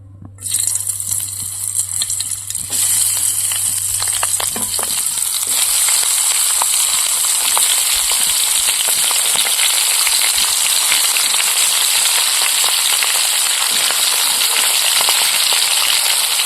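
Green chillies fry in hot oil in a kadai, sending up a dense, continuous crackling sizzle that starts after a quiet moment and then holds strong and close without a break.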